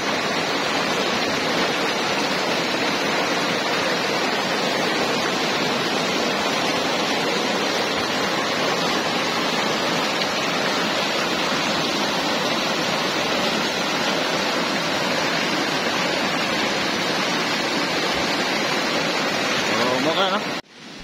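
Creek water rushing steadily at Kumaykay River Farm in Dahilayan, a loud, constant broadband wash that is close and unbroken for the whole stretch before cutting off abruptly at the end.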